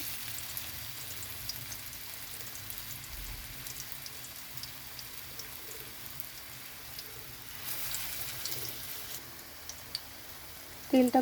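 Radish fritters sizzle softly in hot oil, a steady fine crackle and hiss with occasional small pops, faint and continuous throughout.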